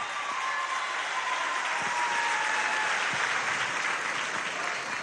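A large audience applauds steadily for women of the humanized birth mission at a Venezuelan government gathering, a dense, even wash of clapping sustained throughout without any voice over it.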